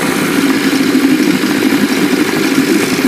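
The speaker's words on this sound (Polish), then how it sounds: "Po prostu odpinamy paliwo i silniczek sobie pracuje." A small engine idles steadily on the fuel left in its carburetor after the fuel line is disconnected, a constant low putter that is close and even throughout.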